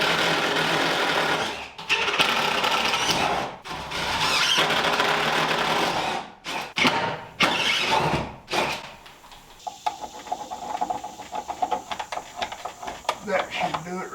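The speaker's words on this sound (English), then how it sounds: "And then get our holes drilled like we did the others." A power drill bores holes for an electrical box in a workshop, coming in several sustained whirring bursts separated by short pauses, followed by lighter clicks and rattles.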